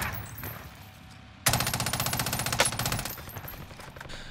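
Automatic gunfire in the video game Warzone: after a quiet start, a sudden long rattling burst of rapid shots lasting about a second and a half, then fading into softer trailing sounds.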